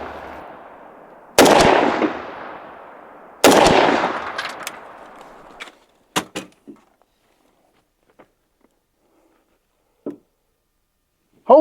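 A Ruger Mini 14 rifle fires at a 25-yard range: two loud, close shots a couple of seconds apart with long ringing decay, followed by several sharper cracks and scattered small clicks and thumps.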